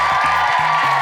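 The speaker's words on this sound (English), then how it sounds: "Give him a round of applause" A studio audience on a children's skills show cheers and applauds in a dense, loud wash of noise for about a second, with low vocal tones threading underneath.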